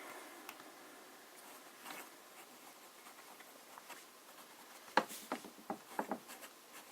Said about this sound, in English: Let's start with some fine writing.